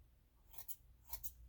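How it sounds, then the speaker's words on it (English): Scissors snip through synthetic wig hair in two quick pairs of crisp, close cuts with no voices. "I'm going to use my scissors going up just to give it an uneven."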